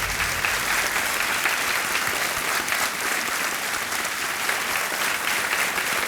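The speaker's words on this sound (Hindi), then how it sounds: "तालियां बजती रहें इनके लिए।" Sustained applause from a TV quiz show studio audience, dense and even throughout, with no one speaking over it.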